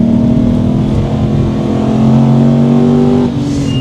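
An Aston Martin Vantage V8 engine accelerating, a loud, steady, close-up growl whose pitch climbs gradually through the gear before a brief dip near the end.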